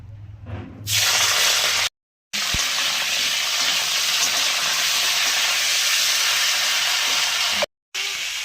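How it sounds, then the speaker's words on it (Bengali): Purple cauliflower hits hot oil in a wok and sets off a loud, steady frying hiss that holds for several seconds, broken by two brief silent cuts. "কড়াইয়ে তেল গরম করতে দিয়েছি, এবার ভেজে নেব কপিটা"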